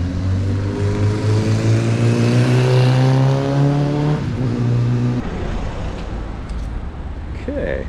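Cars driving one way along a narrow street in Asnières-sur-Seine, a slow-speed zone, with a steady engine hum and a rising rev that cuts off midway, then quieter traffic with a brief squeak; a voice talks over it.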